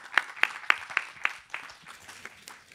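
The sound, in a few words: applause for a speaker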